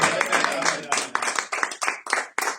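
A church congregation claps in a steady, brisk rhythm during a service, the sharp hand claps close and loud, mixed with raised voices acclaiming.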